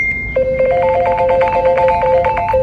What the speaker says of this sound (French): Son numéro de téléphone a fuité, provoquant un flot d'appels et de messages incessants.